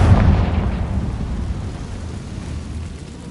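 A fiery Confringo blasting spell explodes in Hogwarts Legacy, a deep booming burst that opens loud and rolls off into a long rumbling decay, with no voices over it.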